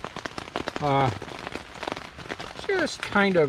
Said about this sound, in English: we have rain this morning